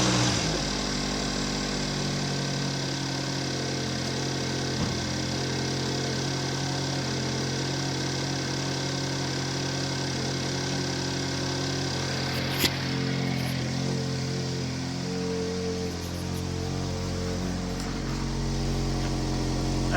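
A 2015 GMC Terrain with a 2.4L engine idling steadily with a noisy muffler, a continuous close-up drone with a faint click partway through and no talking.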